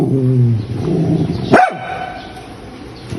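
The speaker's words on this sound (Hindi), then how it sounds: "इतना जलने वाला कुत्ता है ना ये, इतना जलता है" A dog at home gives a single sharp bark partway through, following a low whine-like sound, over steady background noise with no talk.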